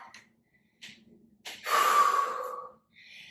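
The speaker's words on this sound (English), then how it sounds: "Taking one last deep breath." A single deep breath during a hip-stretching routine: faint short sniffs first, then one long, loud, airy breath that fades out, with no talking.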